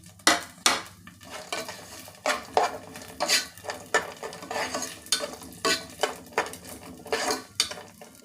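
Dry fruits fry in a spoonful of hot ghee in a pan, a light sizzle under repeated clinking spoon-against-pan stirring strokes at an even pace, close by, with no voices.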